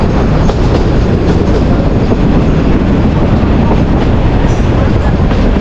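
A local train between Santahar and Noshratpur rolls along its rails after crossing a bridge, giving a loud, steady rumble with a continuous rhythmic clatter of wheels and no voices.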